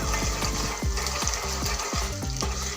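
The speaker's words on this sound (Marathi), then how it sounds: "छान असे आपले मसाले असे परतून घेऊया" Spices with curry leaves sizzle and crackle steadily in hot oil in a pan, close and fairly loud, with rhythmic stirring scrapes and taps running through.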